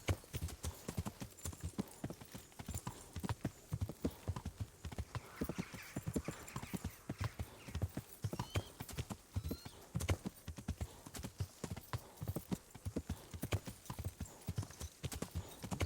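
A horse trots steadily in the video game Kingdom Come: Deliverance, its hooves clip-clopping in a continuous, even rhythm, close and moderately quiet with no pause throughout.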